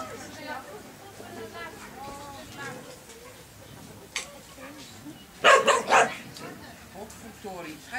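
Dogs at an outdoor dog training school bark in a short loud burst of several barks partway through, while people talk over a busy background of other dogs whining and yipping.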